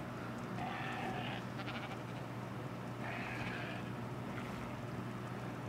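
Sheep bleat in the modded ARK video game, two clusters of wavering bleats a few seconds apart over a constant low droning hum, moderately close and without speech.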